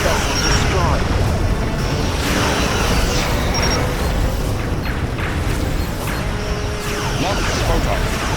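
Borg vessels exploding in the space combat game Star Trek: Legacy, a dense dark rumble with crashing bursts that swells and recedes repeatedly under steady battle noise, with a voice talking over it.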